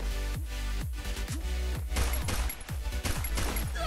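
Pistols fire in the mobile shooter Free Fire in a quick string of sharp shots, about eight or nine cracks in four seconds, each with a short ringing tail, loud and close over a steady game hum.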